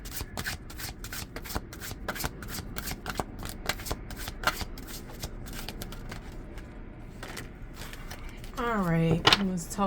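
A deck of reading cards is shuffled at close range in a rapid run of crisp riffling snaps and flutters that continue for most of the stretch, with a short burst of talk near the end.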